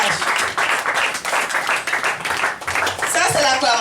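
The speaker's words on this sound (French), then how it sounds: "Acclamez pour le témoignage" A church congregation applauds after a spoken testimony, a steady wash of many hands clapping close by, mixed with voices and cheers, with a voice rising clearly near the end.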